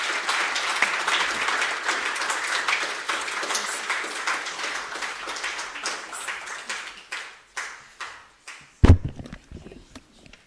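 Conference audience at a Pan-Africanism event claps in a full, dense round of applause that thins out over several seconds into scattered individual claps, with one sharp loud knock near the end.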